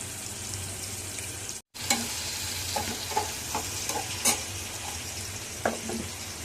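Onion, garlic and bay leaf fry in oil for a dal, giving a constant hissing sizzle with scattered clicks of stirring, broken by one brief gap of silence, with no talking.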